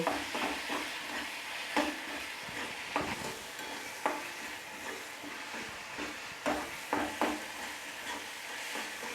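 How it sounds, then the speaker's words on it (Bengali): Green peas stirred and sautéed with spices in a pan for a cauliflower curry give a steady sizzle, broken by scraping stirs that land every second or so. "দিয়ে ভালোভাবে মশলার সঙ্গে মটরশুঁটিটা ভালোভাবে আমি কষিয়ে নেব"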